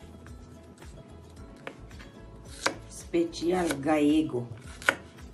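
Knife slicing fish fillet into thin strips on a cutting board for Galician-style hake, a few scattered crisp cuts near and moderately loud, with a voice speaking over part of it.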